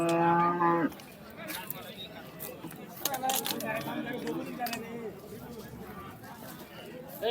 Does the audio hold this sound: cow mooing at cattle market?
yes